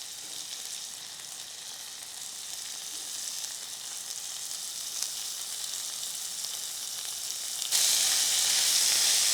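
Bitter gourd with tomato frying in a pan, a steady close hiss of sizzling oil that jumps louder and brighter toward the end, with no talking.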